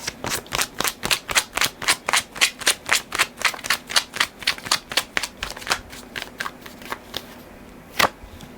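Tarot cards are shuffled rapidly and steadily, a close, crisp rhythmic riffle of roughly three strokes per second that slows near the end, with no talking over it.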